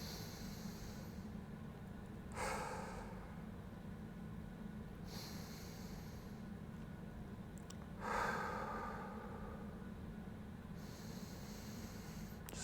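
Slow, deep breaths taken while holding a hip mobility stretch, with a few soft, airy inhales and exhales spaced several seconds apart over a low steady background hum. No one talks.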